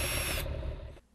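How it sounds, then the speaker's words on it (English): Workers drill into the foundation at a FEMA mobile home site off Highway 171. A brief, loud burst of harsh grinding noise is followed by a slightly duller stretch, then it cuts off sharply. "Workers are now drilling, lifting, and laying the foundation for the FEMA mobile home site"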